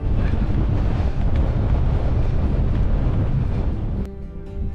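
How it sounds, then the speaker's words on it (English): Strong wind buffets the microphone on an open mountain ridge walk, a loud, continuous rushing roar that slackens slightly toward the end, with no talking. "Still very breezy."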